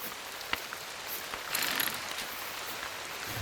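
Rain patters steadily in the hunting game Call of the Wild, a quiet broadband hiss with a few sharp drop ticks and a brief heavier burst midway, no voices.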